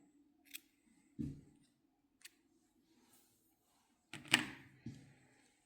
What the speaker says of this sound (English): We can cut this little bit of a yarn.